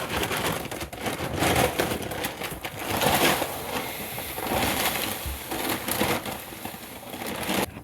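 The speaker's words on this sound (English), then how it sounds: "we're just gonna dump a bit of it, add some scratch grain, add some sunflower seeds, and then we'll mix it all together" Quail feed, scratch grain and sunflower seeds are poured out and layered together, a steady rattling, rushing cascade of dry grain that swells and eases in waves over several seconds, close and fairly loud with no talking.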